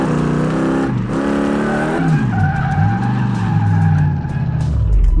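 Loud, sustained tyre skid and squeal from a car doing a handbrake turn in the Car Mechanic Simulator 2018 video game, with engine tone underneath and sliding pitch sweeps over about five seconds.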